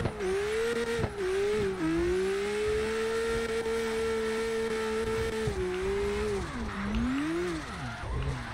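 Nissan GTR R34 engine in the CarX Drift Racing Online game, a steady sustained drone that holds pitch for several seconds, then dips and rises again as the throttle shifts near the end, with faint tire noise and no talk.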